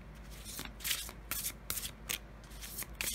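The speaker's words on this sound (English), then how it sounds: "Okay, I'm almost done shuffling." Oracle cards being shuffled by hand in a quiet room, a series of soft, quick riffling bursts repeating roughly every half second, close and faint.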